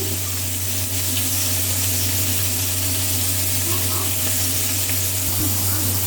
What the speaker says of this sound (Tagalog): ganyan lang kadali yung pagluto ng pritong isda na maliliit sa Hong Kong